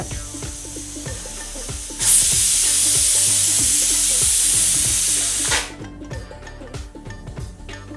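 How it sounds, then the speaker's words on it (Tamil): Steady sizzling and bubbling of a bean curry boiling in a pan on the stove, with a louder burst of hissing in the middle that then settles back down. "நல்லா குழம்பு கொதிச்சிட்ருக்கு நல்லா கொதிக்கட்டும்"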